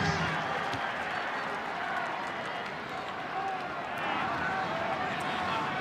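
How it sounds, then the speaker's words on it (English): A large rugby league crowd at North Sydney's ground in 1991, a steady distant roar of murmuring spectators and faint clapping that holds at an even level throughout. "Plenty of West supporters amongst this great crowd here at North Sydney"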